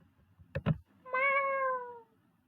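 A person's voice imitates a cat meow: one drawn-out, falling meow, close and clear, just after two short knocks in a quiet room.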